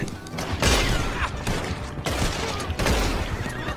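Rapid Gatling gun fire in Red Dead Redemption 2 Online, loud bursts of dense, rattling shots repeating in waves over several seconds.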